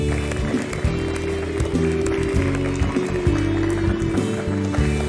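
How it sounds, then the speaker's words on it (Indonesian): An audience applauds to welcome Najwa Shihab, a well-known Indonesian presenter, as she comes on stage at a talk show. The steady clapping runs under loud, rhythmic music with heavy low tones. "Beri tepuk tangan paling meriah untuk Najwa Shihab."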